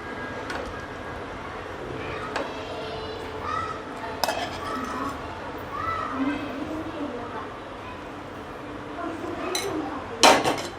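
Spoonfuls of green potato curry being served into a bowl, with light clinks and scrapes of a utensil against the dish while someone talks throughout.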